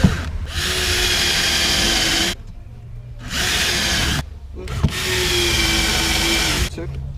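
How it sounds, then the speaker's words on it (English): A power drill bores through a board in an Audi A4 subwoofer parcel-tray fit-up, with three sustained, loud whirring runs of one to two seconds each, separated by short pauses and close to the listener. "So what I can do now is I'm going to drill all the way through the middle."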